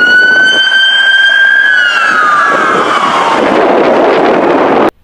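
A loud wailing police car siren sweeps in pitch, close by, then falls as rumbling traffic noise builds, cutting off abruptly at the end.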